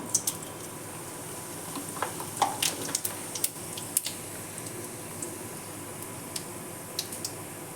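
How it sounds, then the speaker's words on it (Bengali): Cumin seeds, a bay leaf and a dried red chilli crackle and sizzle in hot oil, with scattered sharp pops and ticks over a low steady hiss, fairly faint and close. "তেলে আমি জিরে ফোড়ন দেবো"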